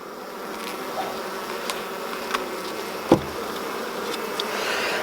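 Honey bees hum steadily around an open hive during a two-frame split, a close, continuous drone with a few soft knocks of frames and equipment and no talking.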